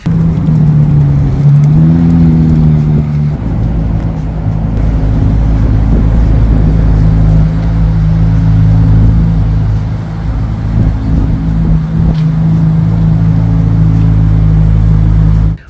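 A Corvette C8 Z06 engine rumbles loudly and steadily, with a brief rise in pitch near the start, then holds a deep sustained drone.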